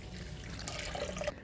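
Water pours into a bowl of semolina for sooji kurwadi, a short close trickle and splash with liquid gurgles lasting about a second and a half, no talking.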